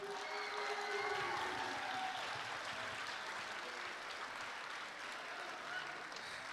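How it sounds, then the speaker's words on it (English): A high school audience claps at a spring band concert, a dense, even wash of applause that carries on for several seconds at moderate loudness, with some faint talk in the room. "Please give them a huge, huge, huge round of applause."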